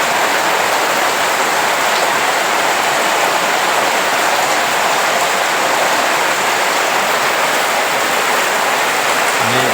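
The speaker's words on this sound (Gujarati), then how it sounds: "ભારે તેથી ભારે વરસાદ" Heavy rain pours steadily onto the ground and flooded farm fields, a dense, continuous roar of falling water with no let-up and no voices.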